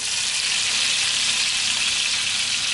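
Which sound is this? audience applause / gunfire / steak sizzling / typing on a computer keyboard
steak sizzling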